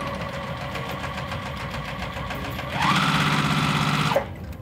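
A sewing machine stitches around quilting fabric squares for a Churn Dash block, its steady mechanical hum running continuously and swelling louder and faster near the end before stopping abruptly.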